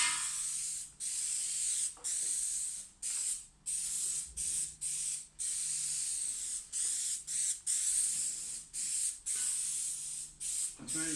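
Contact adhesive sprayed from an aerosol can onto a curved kitchen worktop, a run of sharp hissing bursts, each a second or so long with short pauses between, close and loud.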